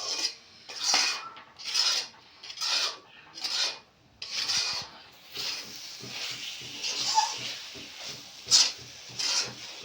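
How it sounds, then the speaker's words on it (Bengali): A spoon scrapes round a kadai of milk naru mixture in slow, regular rasping strokes about once a second. The sound is close and moderately quiet, with faint clinks of metal between the strokes. "এইভাবে অনবরত একটু নাড়তে হবে, যাতে তলায় পুড়ে না যায়"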